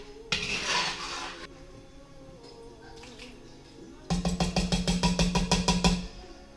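A spoon scrapes and clinks around a pot of crawfish fettuccine sauce: a soft stir first, then a rapid run of about a dozen bright metallic knocks near the end, close and fairly loud.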